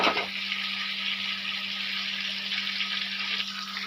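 Tomatoes fry in a pan with a steady, close hiss and sizzle that runs unbroken for several seconds, along with a constant low electrical hum and no voices.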